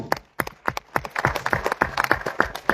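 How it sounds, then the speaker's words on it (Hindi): Audience applause for a Triple Crown Diamond achiever at a business gathering, sharp and fairly close claps, a few distinct hands at first and then a quicker mix of many. "कृपया जोरदार ताली"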